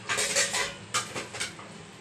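Ceramic cups clink and clatter as they are picked up and handled in a home kitchen, two quick bursts of knocking contact close by.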